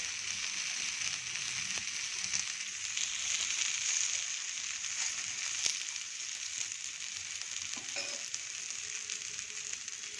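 Cucumber dosa sizzles steadily in oil on a hot pan, a close, even frying hiss lasting throughout with a few faint clinks.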